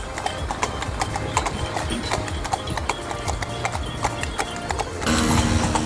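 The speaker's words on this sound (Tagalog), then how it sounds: "Yung kabayo," A horse walks along a street in Morocco, its hooves clip-clopping in a steady close rhythm, with people talking over it and a louder burst of noise near the end.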